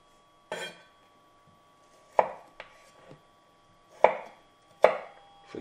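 Knife strikes chopping pumpkin into small cubes on a board, five sharp separate thuds spaced irregularly and close by, with quiet pauses between them.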